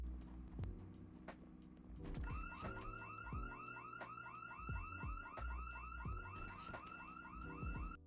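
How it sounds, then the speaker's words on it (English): A car alarm goes off in the zombie survival game Project Zomboid, a loud, steady electronic whooping that repeats for several seconds over in-game thuds and clatter. "I decided to drive out to the bar to grab some stuff for my home and triggered an alarm immediately."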